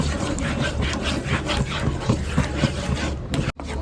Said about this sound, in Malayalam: ഈ മൂന്ന് മിനിറ്റ് സമയം നല്ലോണം ഇളക്കി കൊടുക്കുക